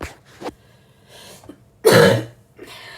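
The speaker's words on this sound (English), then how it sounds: "Need another cough there." A single loud, harsh cough bursts out near the microphone, with quieter indistinct sounds before and after it.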